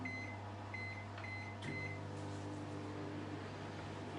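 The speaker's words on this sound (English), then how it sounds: "I'm gonna put it back into the microwave another 30 seconds" Microwave oven running while melting ruby chocolate, a faint steady hum with a few short electronic beeps near the start and a soft clunk midway, no talking.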